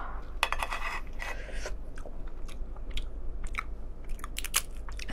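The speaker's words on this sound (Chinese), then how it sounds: "第一次吃这个螃蟹" Close, crisp crunching and biting of crab shell, in irregular sharp cracks and chews one after another with no talking, in a quiet room.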